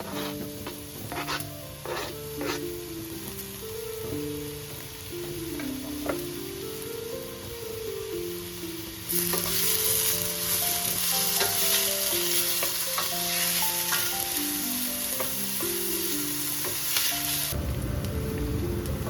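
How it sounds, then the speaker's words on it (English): Onion is added to hot oil while cooking barberry rice. Soft background music plays at first, then a loud, dense sizzle erupts partway through and keeps crackling steadily near the microphone under the melody. "Add onion to hot oil."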